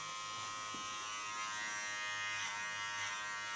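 An electric hair clipper buzzes steadily and close during a short clipper haircut, its high whine holding constant as the blade moves through the hair, with faint soft rustling underneath.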